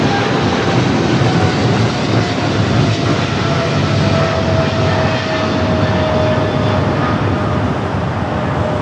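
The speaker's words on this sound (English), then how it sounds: "777 freighter now rolling down to 25 left." A Boeing 777 freighter rolling for departure toward runway 25 left at LAX, a loud, steady broadband jet engine roar with a faint whine running through, sustained and close throughout.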